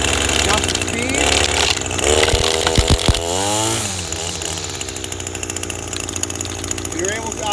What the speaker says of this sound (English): Once it's started, turn the choke all the way off. Your throttle, adjust the speed.